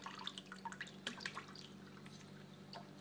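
Kitchen sink tap turned on very low, a faint trickle with scattered drips and small splashes under a steady low hum, fairly close and quiet throughout.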